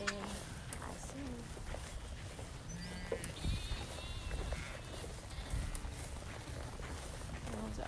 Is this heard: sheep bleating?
yes